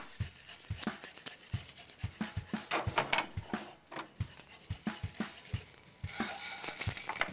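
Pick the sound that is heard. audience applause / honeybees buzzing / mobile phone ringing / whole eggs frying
whole eggs frying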